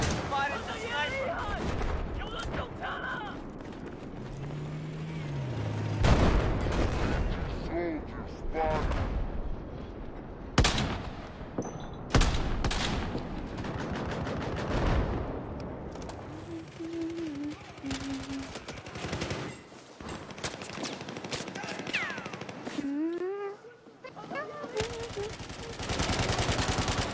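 Heavy gunfire in the video game Battlefield 4: repeated sharp shots and bursts scattered throughout, loud and close, with voices and game sounds in between.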